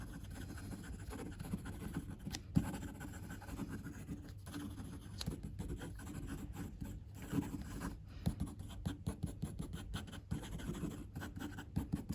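A Wing Sung 3411 fountain pen writes quickly on paper, giving a soft, close scratching with frequent small ticks and strokes that run continuously and faintly throughout.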